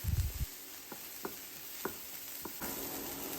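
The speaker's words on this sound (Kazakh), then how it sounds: "Енді бір ас қасық томат пастасын қосамыз, және тағы да жақсылап 1-2 минуттай араластыратын боламыз." Tomato paste fries in a pot while being stirred for a pea soup. A soft, steady sizzle runs throughout, punctuated by a few sharp spoon taps and scrapes, close and quiet.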